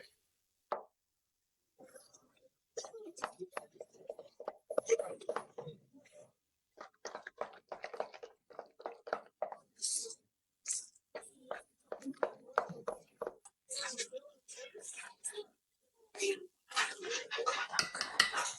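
A spoon scrapes and clicks around a bowl in irregular bursts as a thick sour cream mixture is stirred, with soft wet plops throughout.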